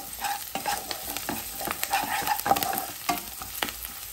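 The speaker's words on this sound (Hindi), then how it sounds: "हल्का सा सॉटे कर लें। 2 हरी मिर्च डाल दें। इसे करी पत्ता डालिए।" Green chillies and curry leaves sauté with ginger in a hot pan for Kerala-style chicken sukka, giving a steady close sizzle broken by spoon-scraping stirs and light clatter throughout.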